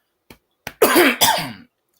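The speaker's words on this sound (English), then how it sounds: "I've had a cough for like 25 years." A couple of small throat sounds lead into two harsh, close coughs, one right after the other, with no talking.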